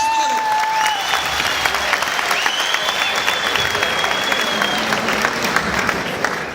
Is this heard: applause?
yes